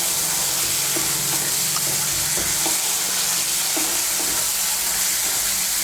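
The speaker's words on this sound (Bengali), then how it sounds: "মিশিয়ে নিয়ে মশলাটাকে আরেকটু কষিয়ে নেব" Masala with green peas frying in a pan, a loud, dense, continuous sizzle with soft scraping stirs underneath, no one speaking.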